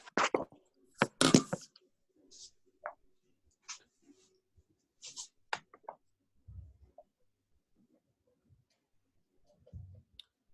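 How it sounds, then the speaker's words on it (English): Sparse keyboard taps as a participant types a question into the chat during an online medical meeting on VV ECMO for COVID, with scattered isolated clicks and short pauses, faint and close, with no talk. "typing in her question"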